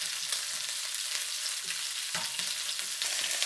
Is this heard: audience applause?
no